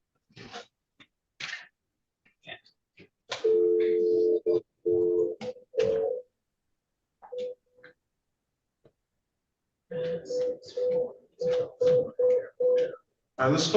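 Telephone tone after a failed call, several steady tone bursts repeating over a quiet line, with brief speech fragments between them and a run of repeated short beeps near the end.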